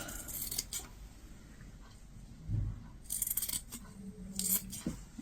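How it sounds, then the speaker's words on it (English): Scissors snip the corners off a fabric shirt collar in a quiet sewing room, with a few short, crisp cutting bursts close by and no voices. "So I'm going to cut the corners off."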